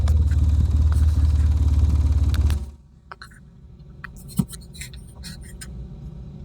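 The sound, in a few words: quad ATV engine at full throttle, parked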